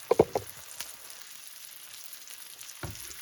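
Green tomato slices frying in a pan in a Southern home kitchen, a steady low sizzle broken by a few sharp utensil clinks at the start and another near the end, close and without talk.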